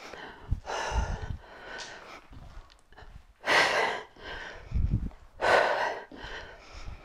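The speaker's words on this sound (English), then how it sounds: "And you can tell I'm breathing heavy." Heavy, labored breathing from an exerciser during a no-equipment bodyweight home workout, with repeated loud gasping inhales and exhales, some snort-like, in uneven bursts close to the mic.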